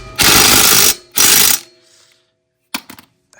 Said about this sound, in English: Make sure I turn my driver the right way. And we'll tighten them up.